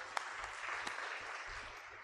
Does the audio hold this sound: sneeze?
no